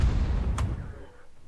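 The big gun of a KV-2 tank in World of Tanks fires a single heavy shot, a deep booming blast with a brief sharp crack that fades into a low rumble over steady background noise.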